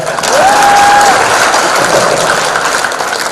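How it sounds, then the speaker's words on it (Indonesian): A seated audience at a formal event bursts into loud, steady applause, dense clapping that holds evenly through the few seconds with a faint whistle-like tone near the start. "Tepuk tangan buat saya."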